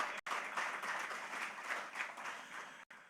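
An audience claps at the Enterprise Life Nigeria Advantage Connect app launch event in 2023, a sustained wash of many hands with two brief gaps, moderately distant and fairly quiet.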